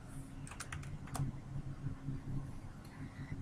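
Someone types on a computer keyboard, a quiet run of quick, uneven key clicks close by over faint room hum, with no one talking.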